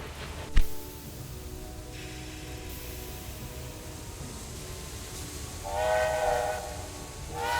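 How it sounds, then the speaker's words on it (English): Train running in the railway game Railway Empire 2, a steady rolling rumble with a sharp knock near the start and a whistle blast swelling late in the clip. "That train just left. So let's ride the train."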